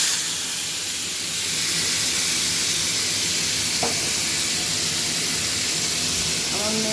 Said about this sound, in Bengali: এটাকে মাখিয়ে তেলের উপরে দিয়ে দিব